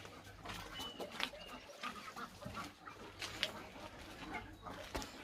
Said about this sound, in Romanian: Vă prezint prima dată găinile, care sunt mare parte în curte